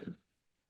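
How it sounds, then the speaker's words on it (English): A single short cough from a presenter with a mild cough, close and fairly loud at the start, then quickly fading into near silence. "I have a little cough today, so I apologize if I cough throughout this thing."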